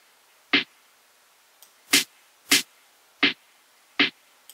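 Five sharp snare drum hits with a bright, thinned-out tone, spaced unevenly with silence between them, the low end noticeably cut away by EQ.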